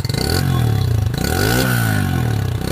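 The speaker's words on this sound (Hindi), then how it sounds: "तो कुल मिला के ये कि बाइक स्टार्ट हो चुकी है, ठीक है जी।" A TVS Apache motorcycle, just repaired with CBZ Xtreme clutch plates, starts and runs loudly nearby with a throbbing idle, then a rising and falling rev partway through, over some mechanical clatter.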